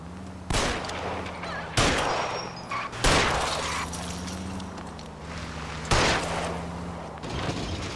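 Several loud gunshots in the game L.A. Noire crack out at irregular intervals over a low engine hum, each burst sharp and close.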